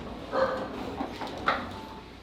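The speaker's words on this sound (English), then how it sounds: "get that dog" A dog gives a few short, faint yips and whimpering barks near a barbershop, brief sounds over low background noise with no talk.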